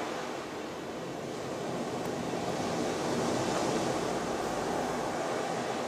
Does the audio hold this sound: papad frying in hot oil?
no